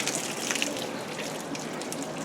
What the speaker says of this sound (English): So the water heads right down the channel there.